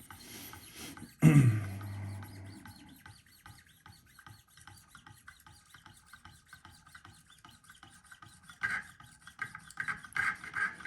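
A Spyderco knife edge drawn across Wicked Edge sharpening stones, with a sudden clatter near the start followed by steady, close raspy rubbing strokes, then louder repeated strokes toward the end.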